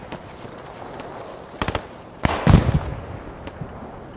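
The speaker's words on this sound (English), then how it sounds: "are those still friendly mortars or are those enemy mortars?" Mortar rounds in the WWII shooter Squad 44 burst as a few sharp booms, the heaviest one near and rumbling, with lighter distant thuds around it.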